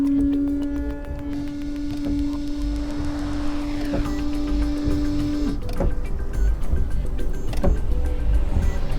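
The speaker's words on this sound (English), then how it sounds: "You can also use sprinkler on the back car windshield by pressing it again and holding a little bit." Rear windshield washer pump spraying and the wiper motor sweeping on a Dacia Sandero, a steady close electric whine with rhythmic mechanical clicks over a low continuous hum, no talking.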